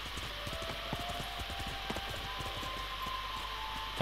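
Horse hooves clip-clopping in Ghost of Tsushima, a steady run of sharp hoof clops at a walking rhythm over a constant game ambience, moderately close, with no talk.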